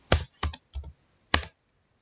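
Four crisp keystrokes on a computer keyboard while an IP address is entered, three in quick succession and a fourth after a brief pause, close and clear with no voice.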